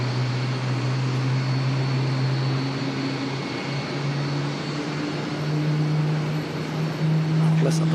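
Airplane engine drone at Auckland Airport, a steady low tonal hum with a rising whine, heard at moderate distance over a constant background rush.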